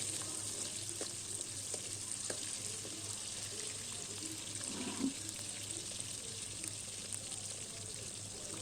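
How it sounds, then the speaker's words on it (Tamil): Small onions frying in oil in a pan for a traditional oil-based brinjal kuzhambu, a steady soft crackle and hiss held at an even level throughout, with no talk. "வெங்காயம் நல்லா பொரியட்டும்"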